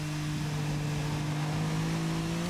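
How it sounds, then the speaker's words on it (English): An Alfa Romeo GTV's engine roars in the racing game Toca Race Driver at the Vallelunga circuit, holding a loud, steady, high-revving drone at a nearly constant pitch throughout, with no voices. "The engine noise, I complained about the engine noise being very loud."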